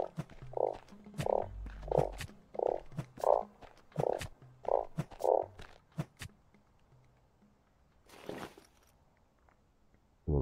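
A frog in the video game StarSand croaks in a steady run of about seven close, hollow pulses, interspersed with soft clicks and footstep-like taps, then falls quiet before a brief rustle.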